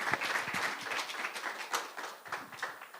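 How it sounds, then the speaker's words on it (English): Modest audience applause in a conference room at a Linux tech expo, scattered individual claps rising and falling irregularly at fairly low volume with no speech over them. "please give him a warm round of applause."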